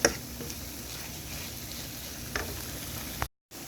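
Tomato paste and base sauce sauté in a pot for jollof rice with pork, a soft steady sizzle with a couple of faint stirring scrapes, quiet and close, cutting off briefly near the end.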